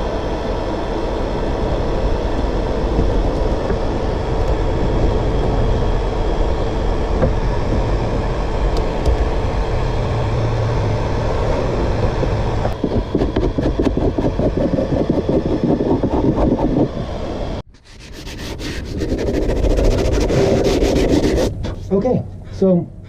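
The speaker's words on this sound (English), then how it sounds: "I think I'll get the heat gun out and peel this fiberglass off" On a wooden boat under restoration, a heat gun blows with a constant close rushing hum while fiberglass is scraped and peeled off, producing rough rubbing textures that break into sharper tearing and scraping near the end.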